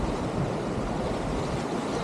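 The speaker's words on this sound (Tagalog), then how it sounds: "Pag umahampas yung alon dyan" Waves striking the shore at a deep blue stretch of sea at Laswitan: a steady, moderately loud wash of surf mixed with wind noise on the microphone, continuous and without any talk.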